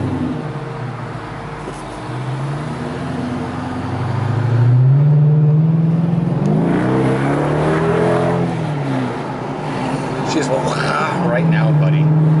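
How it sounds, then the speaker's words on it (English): A Dodge Magnum R/T Hemi V8 station wagon engine revs and accelerates on a road test drive in traffic, a steady low rumble swelling louder midway, with someone talking over it throughout. "we're gonna go for a little test drive here."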